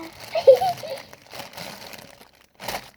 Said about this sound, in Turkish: Ama bu daha çok poşet açması olacak.